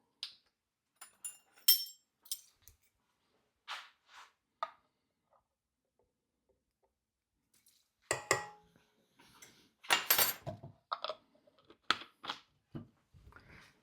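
Spoon clinking and scraping against a bowl while vanilla extract is stirred into sweet potato cake batter, a few quick ticks early on, a quiet pause, then a denser run of clattering strokes.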